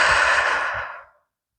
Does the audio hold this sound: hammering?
no